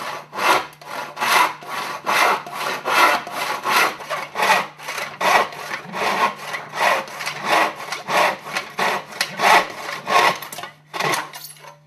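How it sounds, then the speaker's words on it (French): A hand saw cuts through wood while a wooden box is being assembled, its strokes loud, close and steadily rhythmic, about two per second, continuing alone without any talk. "je peux utiliser soit une scie à main, soit une scie électrique"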